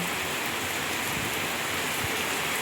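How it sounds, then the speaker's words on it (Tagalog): Steady, dense rain hissing down on surfaces, a continuous wash of drops with no voices, fairly loud and close throughout. "hanggang ngayon maulan pa rin"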